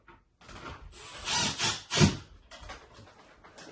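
Screw driven with a power drill through a recessed light fitting into a wooden ceiling joist: short bursts of whirring and grinding that build to a loud peak, then taper off into quieter rattling, with no speech.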